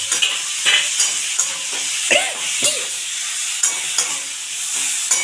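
Boiled potato pieces are stirred into fish curry frying in a pan, a loud continuous sizzle and hiss broken by regular scraping strokes of a spatula, close up with no talking.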